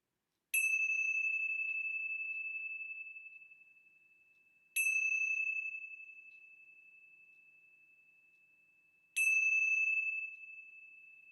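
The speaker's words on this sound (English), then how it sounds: "let's begin our time together with the ringing of the bell." A bell rings three times, each clear metallic strike sustaining a long, slowly fading tone, with silence between the evenly spaced rings.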